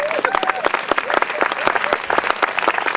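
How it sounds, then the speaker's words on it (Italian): A crowd applauds warmly for Viviana at a film festival award ceremony, loud, dense clapping up close with voices calling out over it. "un applauso a Viviana"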